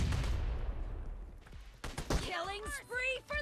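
Gunfire in the mobile battle royale game PUBG Mobile, a dense burst of shots at the start that fades out, followed by voices talking over quieter game sounds.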